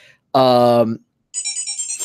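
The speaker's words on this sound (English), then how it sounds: "someone's messaging me. Social media, damn it." A phone message notification plays loud and close: a short bright tonal chime, a brief pause, then a higher quick repeating electronic jingle.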